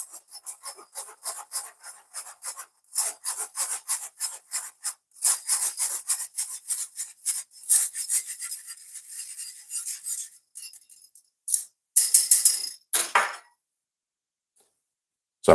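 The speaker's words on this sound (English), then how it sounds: "Just gonna use my whisk to help it through the sieve." Whisk scraping and pushing watermelon pancake batter through a metal sieve, a series of rhythmic rasping strokes close up, pausing now and then, ending with a few quicker bursts before silence.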